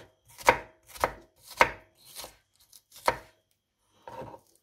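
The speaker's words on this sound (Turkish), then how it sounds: "Soğanlarımızı doğrayalım." Onions chopped with a knife on a board outdoors in a village kitchen, six crisp, separate chops in an uneven rhythm, close and fairly quiet, with no talking.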